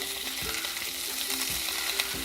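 Honey sriracha chicken sizzles steadily in a hot pan while a utensil stirs it, giving a constant bright hiss with a few scraping knocks as the pieces are moved around.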